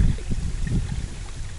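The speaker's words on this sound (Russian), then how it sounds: "Лодка идет." A boat moves across the water during a perch fishing trip, giving a low, close churning rumble with soft splashes, alone and without talk.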